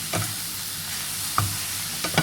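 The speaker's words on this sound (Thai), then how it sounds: "ผัดให้เข้ากันอีกรอบหนึ่งนะคะ" Okra and egg being stir-fried in a pan with fish sauce, giving a steady low sizzle with a few distinct clinks and scrapes of a spatula against the pan, no talking.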